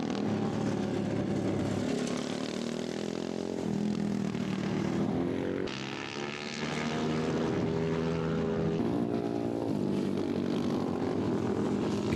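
MIR 220 racing motorcycles, ridden by young racers aged 10 to 17 in a class 2 race, pass on a track with steady, high engine whine and shifting pitch sweeps as machines go by, loud and continuous throughout.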